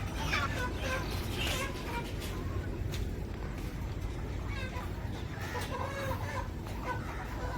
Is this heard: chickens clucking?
yes